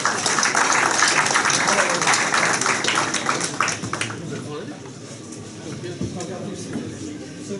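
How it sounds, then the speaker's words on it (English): An audience at a Bangladeshi community leadership award ceremony in London claps for award recipients. The broad, dense applause is loud at first, then gradually thins and fades. "A round of applause."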